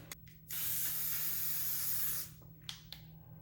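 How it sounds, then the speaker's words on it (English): A single sustained spray hisses for about two seconds, bracketed by a few faint clicks and short puffs. "Let me go ahead and spray this."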